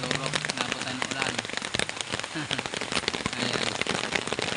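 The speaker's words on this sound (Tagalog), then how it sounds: "grabing lakas ng ulan" Heavy downpour during a rural outing, dense continuous patter of rain striking surfaces nearby with crackling drops, loud and steady throughout with no clear talk.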